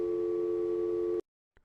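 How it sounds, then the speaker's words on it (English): A Mitel 6757i desk phone gives a steady, clear dial tone that holds for about a second and cuts off abruptly, followed by silence and a faint click. "pick up the handset to get dial tone"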